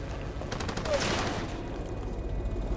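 Gunfire comes from an enemy boat in Far Cry 2 as a short burst of rapid, fairly distant automatic shots, followed by steady low water and engine rumble.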